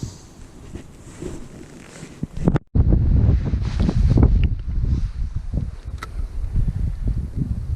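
Strong wind buffets the microphone while fishing outdoors, in heavy, roaring gusts that grow louder after a brief dropout, with a low rumble throughout.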